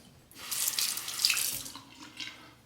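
Water runs from a tap as a shavette razor is rinsed under it, a close, hissing splash that swells and fades over a couple of seconds with no talk.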